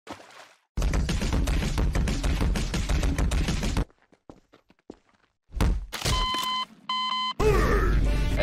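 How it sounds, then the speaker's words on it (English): A phone rings in a Garten of Banban animation, with short repeated electronic ring tones coming in bursts after loud clattering noise and brief silences. "you got a phone call."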